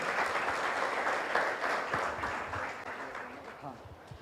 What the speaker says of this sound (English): with a loud round of applause, please welcome Rammoham